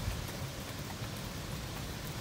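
Rain falling with wind, a dense even wash of noise that stays constant and close throughout the short span, with no voices.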